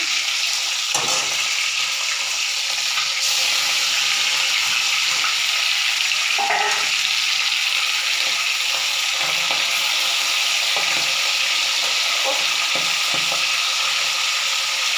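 Food fries in hot oil with a loud, steady hiss and crackle that runs unbroken throughout, close up, with occasional clatters of a utensil.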